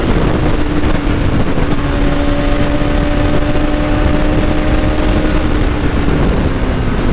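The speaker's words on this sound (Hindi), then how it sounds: "अभी है बस, अभी है बाइक का पावर देखो।" A BS6 Bajaj Pulsar NS200 motorcycle engine runs as a loud, close, steady drone with a constant pitch for about seven seconds, with no voices over it.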